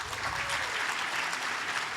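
Audience at a live podcast recording clapping to vote, a steady, even wash of many hands at moderate distance.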